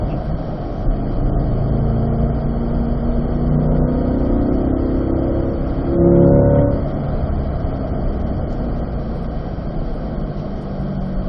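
A C8 Corvette at a driving school track gives a steady loud engine drone from inside the car, rising in pitch as it accelerates before settling back.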